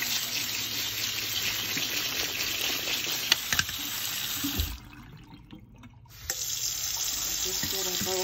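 Tap water runs steadily into a bowl of blueberries to soak them, a continuous close hiss that briefly drops out near the middle before resuming.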